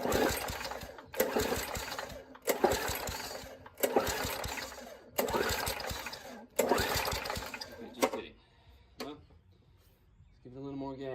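An old Murray push mower with a 3.5hp Tecumseh engine, carburetor suspected bad, cranks in about six loud, regular bursts, then falls quiet apart from a few faint knocks and a short voice at the end.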